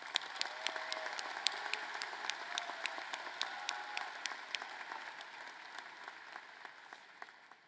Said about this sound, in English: A round of applause for these outstanding seniors.